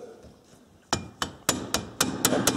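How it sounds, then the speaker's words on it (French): Mallet tapping on a Hytrack 500s quad bike part during bearing work: a quiet pause, then about seven sharp, evenly spaced knocks, close and loud. "Donc il y a un petit outil pour ça, je vous le présente. Mon copain le maillet."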